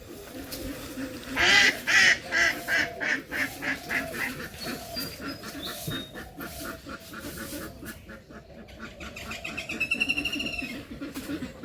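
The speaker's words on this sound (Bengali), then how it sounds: "হাঁস খালি পাক পাক টইছে" Village ducks quacking in a loud, rhythmic run of harsh calls close by, followed by further squawks later, on an otherwise quiet morning.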